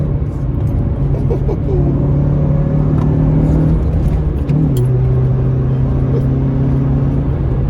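A Honda Civic FN2 Type R drives on a winding road, its engine droning steadily and loudly from inside the cabin, pitch rising and falling with gear changes and throttle.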